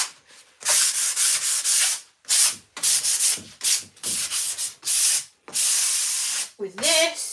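Hand sanding scuffs a painted furniture surface in long rough strokes, loud and close, coming in repeated bursts with short pauses between passes, with a brief faint voice near the end.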